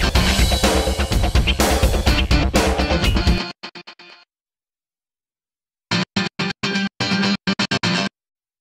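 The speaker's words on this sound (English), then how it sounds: "on this strum guitar, I've got some quite complicated mute automation" Strummed guitar in Logic Pro with mute automation: loud, dense strumming cuts off abruptly, then returns in short choppy bursts that switch on and off in a stuttering rhythm.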